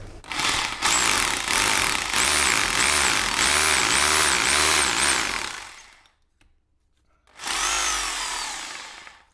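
A power drill bores an 8mm hole in a long steady burst, stops briefly, then whirs again for a second shorter run.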